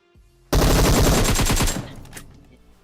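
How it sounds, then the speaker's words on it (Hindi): Uzi fire in PUBG Mobile: a loud, dense burst of rapid automatic shots starting abruptly and running for over a second, then tailing off with a brief later crack and fading echo. "उजी की 100 गोली चलाई यहाँ पे किसी ने।"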